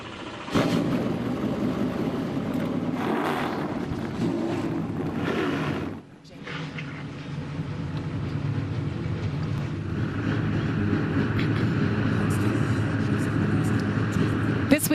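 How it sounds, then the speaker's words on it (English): ARCA stock car engines start and rumble together at the Mid-Ohio Sports Car Course, a broad, steady roar that briefly dips and then swells again. An announcer's voice carries over the noise. "Drivers, start your engines."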